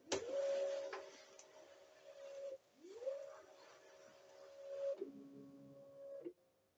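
A Vevor cutting machine cutting material on a Loklik mat gives a motor whine that rises and holds as the carriage sweeps back and forth in several passes, close by and with no one speaking.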